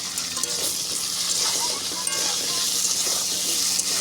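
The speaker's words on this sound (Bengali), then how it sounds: "একটু লবণ দিয়ে দিচ্ছি আর একটু হলুদ দিয়ে দেব আলুগুলোকেও ভালো লাল লাল করে ভাজবো" Potatoes frying in a wok with salt and turmeric added, a loud bright hissing sizzle with scraping stirs throughout, close by and steady.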